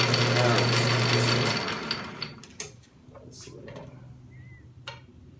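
South Bend Heavy 10 metal lathe set up for threading: a steady motor hum for about a second and a half, then it spins down, followed by scattered metallic clunks and clicks nearby.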